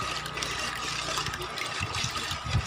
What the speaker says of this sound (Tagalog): O, sige, buhusan mo ata ng gatas.